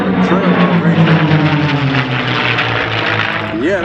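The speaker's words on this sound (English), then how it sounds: "that big old prop whirling around out in front of that airplane" A P-51 Mustang propeller fighter roars past at an air show, its loud engine drone falling steadily in pitch as it passes close by, with faint voices briefly audible.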